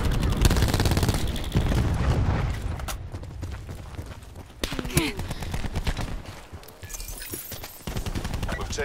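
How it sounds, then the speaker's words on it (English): Call of Duty battle audio: dense rapid gunfire and booming cluster grenade explosions fill the space in loud overlapping bursts, with a voice talking over the action. "Throwing cluster grenade."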